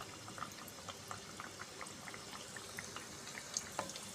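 A second batch of jibe goja dough sweets frying slowly in hot oil, a faint, continuous bubbling sizzle with small crackling pops throughout.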